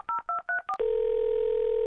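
Telephone keypad tones as someone dials to call a girlfriend: four short tone pairs in quick succession, a brief fifth, then a steady loud dial or ringback tone holding to the end, with no talk.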